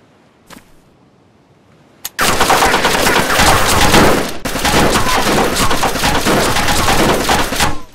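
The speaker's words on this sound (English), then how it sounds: "Any reason he's just shooting shit?" SKS rifle fire in the survival game DayZ: after a couple of isolated sharp cracks, a loud, continuous rapid stream of gunshots runs for about six seconds with a brief break midway.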